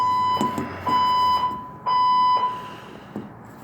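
A false fire alarm sounds in repeated loud electronic tone bursts with short gaps between them, steady and piercing, with no talk.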